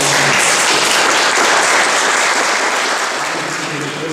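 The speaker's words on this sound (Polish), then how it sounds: "prosiłbym o, wówczas o klaski, które będą aprobatą tego, że zgadzamy się na przyznanie" Dense, steady applause fills a hall as an audience approves an honorary award, loud and continuous throughout with no gaps, easing only slightly toward the end.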